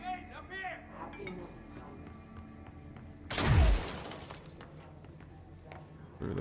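Glass shatters in the video game Control as a single loud burst of breaking shards and tinkling debris midway through, set against quieter game ambience and background voices.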